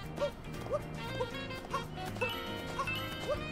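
A dog in Super Mario Odyssey gives short, evenly spaced barks over bouncy game music, the barks clear but not loud in the mix.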